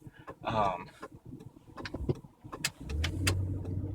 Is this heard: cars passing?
yes